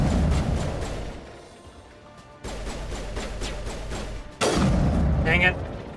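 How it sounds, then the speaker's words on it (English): Sniper rifle fire in Mass Effect Legendary Edition, two loud sharp blasts with booming tails breaking through steady game noise, the second shot near the end and especially strong. "I love sniper rifles in this game."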